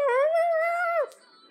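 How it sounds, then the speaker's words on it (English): A single drawn-out dog howl from a video game rises and holds for about a second before dropping off, clear and close, followed by faint background noise. "Dang, so many dogs."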